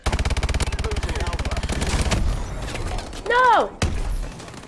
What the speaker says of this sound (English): I'm getting sniped while I'm flying full speed into the air